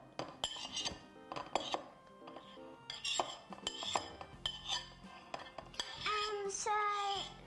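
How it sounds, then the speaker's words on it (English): Knife scraping and clinking against a plate as soft butter is pushed off it for a strawberry crumble, a run of short scrapes and taps close by with no talk. "So you might need a knife for the soft butter so you can scrape it off the plate."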